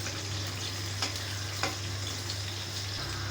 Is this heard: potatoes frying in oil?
yes